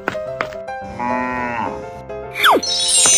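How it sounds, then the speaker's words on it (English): A cartoon cow moos in a children's animal game, one long drawn-out low call standing clearly alone between short chimes and a closing swooping whistle effect. "Cow."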